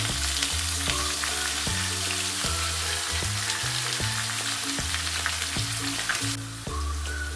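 Curry leaves and ground onion fry in a pan with a steady, dense sizzle and crackle throughout, close up and with no talk.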